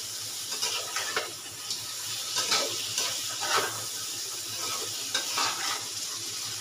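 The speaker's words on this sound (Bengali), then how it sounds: "লাল লাল করে একটু ভাজা হয়ে গেল মশলাটা।" A paste of tomato, green chili and ginger fries in a pan for mixed rice. It gives a steady sizzle broken by repeated scraping strokes of a spoon as it is stirred, with no talking.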